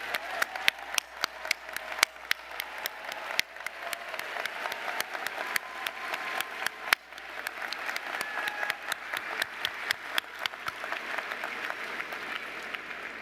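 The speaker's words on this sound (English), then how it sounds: "Can you stand up and we'll just give everybody a big round of applause" A large commencement crowd applauds continuously for over thirteen seconds, a broad wash of clapping heard from a distance with sharper individual claps standing out near the front.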